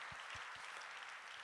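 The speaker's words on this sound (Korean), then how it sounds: "우리 박수 한번 하겠습니다." Faint applause from a church congregation at a Wednesday service rises as a soft, steady patter of clapping heard at a distance, with a few low thumps near the start.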